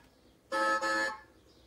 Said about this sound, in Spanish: Y el otro botón es el claxon